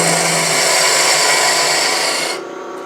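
A roughing gouge bites into wood spinning on a lathe, shaping an antique bedpost finial: a loud, continuous bright hissing scrape that cuts off near the end, leaving the lathe's lower hum.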